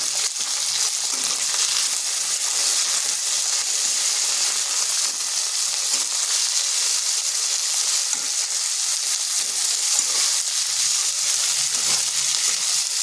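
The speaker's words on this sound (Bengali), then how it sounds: "এরপর এখানে দিচ্ছি ভেজানো ছোলা।" Soaked chickpeas sizzling among fried potatoes in a pan, a dense continuous loud frying hiss with faint crackles and stirring, close and unbroken, no talk.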